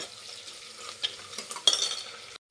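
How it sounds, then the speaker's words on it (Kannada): Onions with salt and bay leaf fry in a pan for hotel-style chicken pulao, with a soft sizzle under several short scraping stirs, close and fairly quiet, ending abruptly. "ಇದೊಂದು ಸ್ವಲ್ಪ ಈರುಳ್ಳಿ ಫ್ರೈ ಆಗಬೇಕು"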